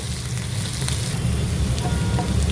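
Green chilli, curry leaves and ginger sizzle steadily in oil in a pan for a Kerala-style mutton liver fry, a continuous close crackle with light stirring and no talk.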